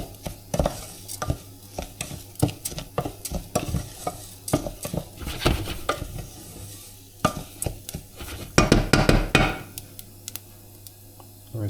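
Rice and quinoa toasting over strong heat in a hot pan, stirred constantly, give a steady run of close, dry clicks and scraping, with a faint sizzle and the knock of the spoon against the pan.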